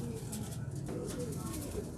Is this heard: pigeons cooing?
yes